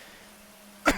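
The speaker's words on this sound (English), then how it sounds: "Sorry, I coughed right into the mic." A single sharp cough bursts right into a close microphone near the end, loud and brief after a stretch of near silence with a faint hum.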